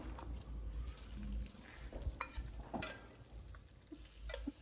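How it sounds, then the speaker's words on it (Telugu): Fried asafoetida tempering is stirred into rice for pulihora: a soft continuous crackle with scattered spoon scrapes and clicks against the pan, close and moderately loud. "ఇప్పుడు పక్కకు తీసుకుని ఆ రైస్లో కలిపేసుకుంటున్నాను"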